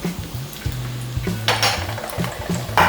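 Garlic with spring onion and celery stems stir-fried over a high flame for egg fried rice, loud sizzling with clinks and scrapes of a metal spatula on the pan, a low hum underneath, no talking.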